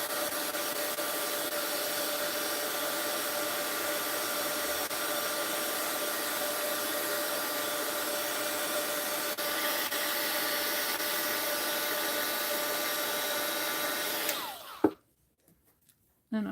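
A heat gun blows a steady, loud whooshing roar while remelting leftover sealing wax in the bottom of a melting pot, running continuously for about fourteen seconds before cutting off abruptly into near silence.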